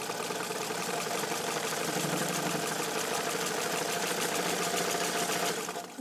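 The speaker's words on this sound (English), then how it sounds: "I'm sewing a little faster here. I wanted you to be able to see that the machine can run fast." A restored vintage all-metal Necchi BU Nova sewing machine runs at high speed, its dense, steady mechanical whir and rapid needle clatter continuous and close, with no talking.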